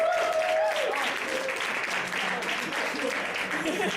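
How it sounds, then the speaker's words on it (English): Crowd at an open mic night applauding a performer, a sustained wash of clapping with a voice or whistle rising over it at the start, mixed with cheering and chatter. "big round of applause for Merlin."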